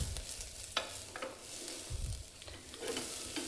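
Rice and moong dal dry-roast in a pan over medium flame, with soft gritty scraping and rustling as a spoon stirs the grains, punctuated by a few brief clicks of utensil against the pan; quiet and close, no talking.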